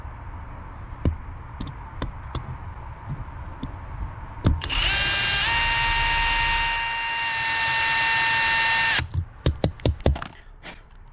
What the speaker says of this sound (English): a drill hole in there